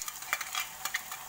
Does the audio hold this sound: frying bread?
yes